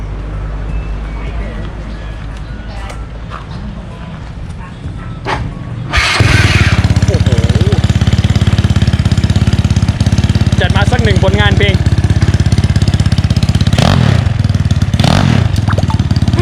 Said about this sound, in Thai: ติดเครื่องได้ไหมติดได้ครับได้นะจัดมา